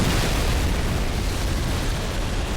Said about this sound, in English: One grenade.